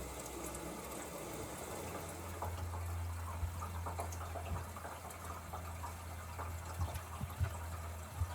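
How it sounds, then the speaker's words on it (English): Aboard a sailboat, a water tank fills with a steady low rushing and trickling flow, with faint gurgles and small knocks over a constant hum; no voices. "Filling up the water tank."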